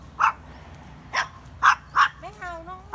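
A puppy at the Thai–Cambodian border gives several short, high, yappy barks in quick succession, close by, with people talking around it.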